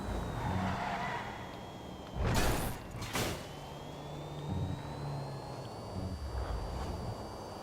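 The Överflöd Pipistrello, an all-wheel-drive supercar in GTA Online, drives with a rising engine drone, bursts of tire squeal and skidding, and shifting revs, fairly quiet and without voices.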